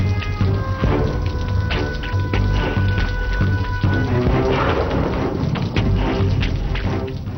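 Heavy thunderstorm rain, a steady dense patter of drops hitting a surface with occasional dull thumps, continuous and fairly loud throughout, with faint tonal hum beneath.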